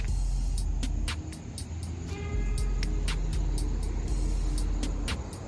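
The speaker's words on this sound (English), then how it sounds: "That little Jeep sound good" A small Jeep engine idles with a steady low rumble close by, accompanied by a regular series of high ticking clicks, with no one speaking.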